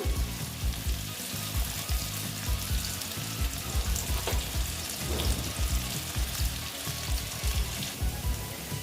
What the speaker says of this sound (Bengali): দিয়ে আলুটা আমি ভেজে নিচ্ছি